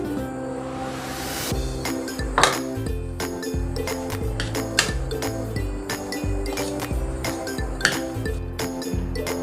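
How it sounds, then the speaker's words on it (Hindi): A spoon or utensil clinks and scrapes steadily against a bowl as cornflour is mixed into mashed potato dough, with a rhythmic run of close taps and a few sharper knocks over background music. "कॉर्नफ्लोर को भी हम अच्छे से मिक्स कर लेंगे।"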